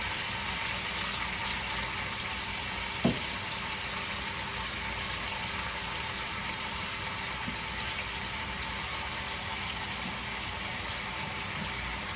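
Oxtails frying in hot grease, a steady, dense sizzle hissing throughout, with one brief knock early on.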